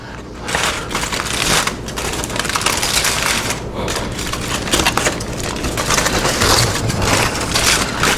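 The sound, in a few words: unwrapping pecan-smoked pork ribs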